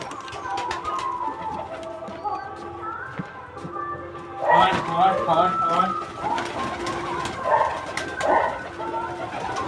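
Pet pigeons coo repeatedly at feeding time, close by and fairly loud, with soft rolling calls that grow busier partway through. Human voices are faintly present alongside them.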